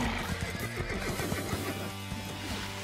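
Cartoon horses whinny and neigh in overlapping calls, with hooves clip-clopping beneath, a moderately quiet continuous scene with no speech.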